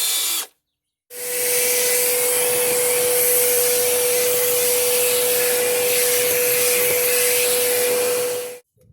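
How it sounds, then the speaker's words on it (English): A steady, loud vacuum cleaner drone runs unbroken for several seconds after a brief pause while cleaning upholstery, with a constant motor whine and broad rushing air noise. "Then I'm going to come back over it with a vacuum cleaner."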